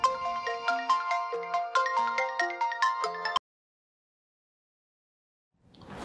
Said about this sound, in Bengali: ফোন ধরতেছো না কেন?